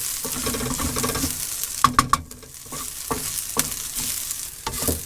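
Onion sizzles and fries in a frying pan, a continuous hissing crackle broken by a few sharp clinks and scraping stirs of a utensil against the pan, close and without talking.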